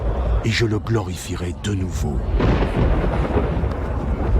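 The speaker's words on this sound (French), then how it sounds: "Quelques-uns dirent que c'était le tonnerre" Low rolling thunder rumbles beneath a man reading a Gospel passage aloud, growing into a sustained deep roar as the speech continues.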